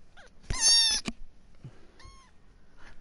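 Little kitten meowing, a loud high-pitched meow followed by a fainter second mew and soft rustling, close to the microphone in a quiet room with no talk.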